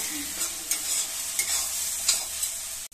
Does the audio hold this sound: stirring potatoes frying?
yes